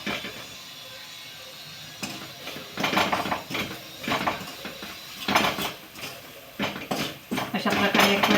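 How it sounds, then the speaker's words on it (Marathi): A metal spoon scraping and clinking in a pan on low flame while chilli powder, salt and turmeric are mixed into a Maharashtrian peanut curry, with someone speaking over the irregular stirring. "आणि आता तिखट मीठ टाकून एक वेळा मिक्स करून घेऊ."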